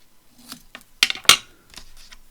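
Scissors trim washi paper in a few quick, close snips, sharp crisp cuts clustered in the middle of a quiet moment at a crafting table.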